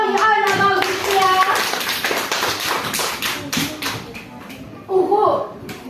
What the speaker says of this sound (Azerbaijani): Ayla alqışıya.